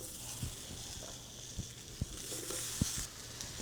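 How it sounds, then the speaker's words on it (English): Onion and other vegetables char on a hot comal over high heat, giving a steady soft sizzle with scattered sharp pops and crackles, close by and with no talk. "We're gonna start by adding all the vegetables into the comal."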